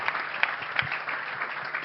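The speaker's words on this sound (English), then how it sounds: "Round of applause for his teammate," A television studio audience gives a brief, steady burst of clapping for a guest on a panel show, with a couple of sharper hand claps poking out of the even patter.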